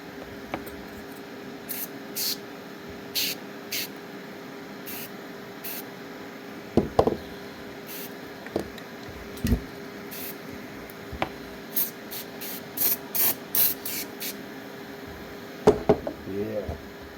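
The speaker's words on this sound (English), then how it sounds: "First of all, let's spray all this down." A spray bottle squirts in quick bursts of short hissing spritzes onto restored LED lamp parts, nearby and irregularly spaced, with occasional knocks and handling clatter in between.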